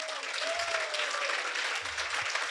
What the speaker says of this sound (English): we should give an applause for